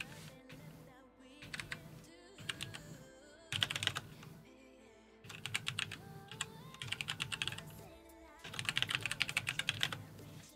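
Computer keyboard typing during a Heroes of the Storm live stream: rapid bursts of close, clicky keystrokes in irregular runs, with faint game music and sounds underneath.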